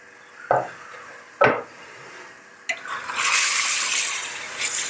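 Tomatoes are stirred and fried in a pan for dum keema. Two sharp clanks of the spoon against the pan are followed by a rising, steady sizzle of frying.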